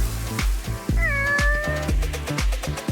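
Cartoon cats in an animated paper game meow repeatedly, a close, loud series of short mews including one longer drawn-out cry, set over a rhythmic bouncy music beat.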